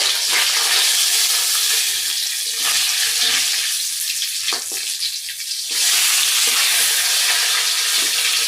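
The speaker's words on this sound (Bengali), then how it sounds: "এই যে মাছ ভাজা হয়ে গেছে" Hilsa fish fries in a pan with a loud, steady sizzle and crackle of hot oil, briefly easing off once before surging back to full strength.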